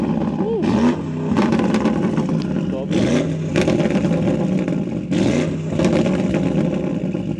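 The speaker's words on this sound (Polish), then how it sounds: "żebyś wsiadł za kółko i dosłownie 4 czy 5 refsów dla naszych widzów pokazać, jak brzmi wydech na postoju" Audi RSQ8 tuned by MTM to 1001 hp, its exhaust revved several times while parked, loud repeated engine surges with rumble, heard under people talking.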